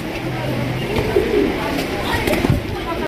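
A pair of young Maxi racer pigeons coo softly at close range, low throaty calls rising over a busy background hum for about three seconds, with no clear talking.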